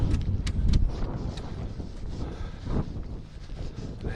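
Steady wind gusting across an open spot near the abbey at Pluscarden, rumbling and buffeting the microphone with a low roar that rises and falls throughout.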